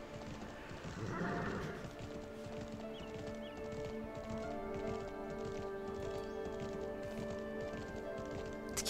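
Horse hooves clip-clop steadily in a fantasy farming video game, a continuous rhythmic trotting over a constant background of game ambience, with no talking.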